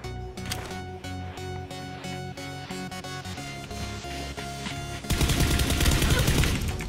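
Rapid PUBG gunfire rattles in quick repeated bursts over a steady electronic hum, growing into a louder, denser barrage near the end.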